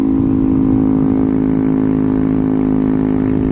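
A Honda Grom motorcycle engine drones at a steady high pitch, held at wide open throttle without letting up, loud and close.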